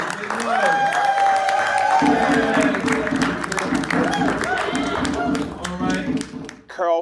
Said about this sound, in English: Everybody applaud now.